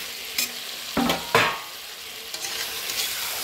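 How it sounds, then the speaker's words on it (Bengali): Fried potatoes tumble into a pan of half-cooked meat being sautéed, with a few sharp scraping stirs and clatters over a steady close sizzle and no talking. "তো এবারে দিয়ে দেবো আলু, ভেজে রাখা আলুগুলো"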